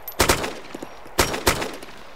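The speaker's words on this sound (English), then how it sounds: "Someone else is shooting up so much, I think." Gunfire from the Arma video game mod Wasteland Chernarus: a few sharp bursts of shots, one pair early and two more well-spaced cracks later, with fainter distant pops in between and no talk.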